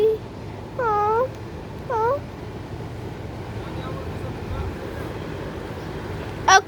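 A small kitten meows indoors, two clear rising-falling meows early on and a short squeak near the end, against a steady breathy background hiss with no talking.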